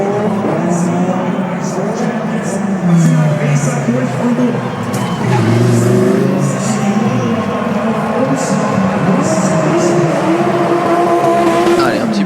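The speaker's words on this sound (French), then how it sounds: "Allez, un petit burning pour Vettel avant de ressortir" A race car does a burnout, with loud engine roar and a long sustained tire squeal and skid, while a commentator talks over the noise.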